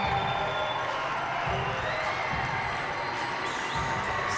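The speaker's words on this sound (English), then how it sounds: "Listen to this crowd." Loud, sustained cheering and roaring from a basketball playoff crowd in a game between the London Lightning and Niagara River Lions, with whoops rising over a continuous bed of noise.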